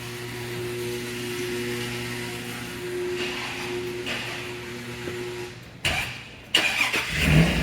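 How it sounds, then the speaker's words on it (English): A truck engine is cranked and started close by, with a steady mechanical hum giving way to a couple of loud, rough bursts as it catches near the end. "There's another guy over there working on the truck, trying to get it started"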